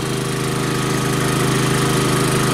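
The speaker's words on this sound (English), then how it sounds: "Idle up to handle that extra draw on the generator." A Champion 3500 watt dual fuel generator running under load from a heater, a loud steady engine drone with a constant low hum, close by and alone.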